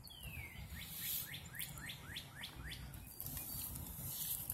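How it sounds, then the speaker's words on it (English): Robins and other songbirds sing outdoors, with a series of repeated chirping notes over a steady background hiss. "listening to the robins and the different songbirds that are out"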